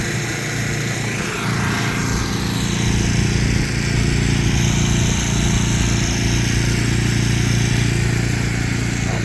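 The diesel motor on top of a Bidwell paving machine runs with a loud, steady droning rumble and a constant low hum, with no one talking.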